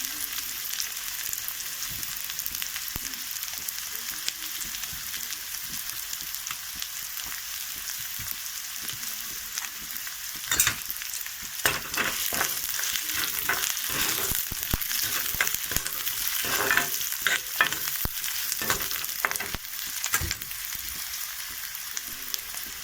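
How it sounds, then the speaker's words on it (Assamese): Finely chopped onions frying in oil in a kadai make a continuous close sizzle and crackle, with frequent sharp stirring scrapes growing busier midway, and no talking. "তাৰপৰা মিহি মিহিকৈ কুটি লোৱা পিঁয়াজখিনি তেলত দি দিলোঁ আৰু ভালদৰে এইখিনি ৰঙচুৱা হোৱালৈকে ভাজি ল'ম"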